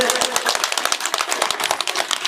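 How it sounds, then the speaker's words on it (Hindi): Crowd of wedding guests at a Buddhist ceremony in Ghaziabad applauding loudly, a rapid, scattered burst of many hand claps continuing throughout at steady strength. "तालियां बजाएं जोर से।"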